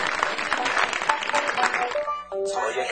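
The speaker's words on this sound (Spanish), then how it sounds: "un fuerte aplauso para un dúo de niños súper pegado con ustedes, Tom y Jerry." Audience applause at a live music show, clapping from a crowd heard under a talking voice for about two seconds before music takes over.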